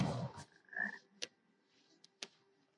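A frog in Hogwarts Legacy gives a low croak amid game sounds, followed by a few sharp clicking ticks, moderately quiet with no voices.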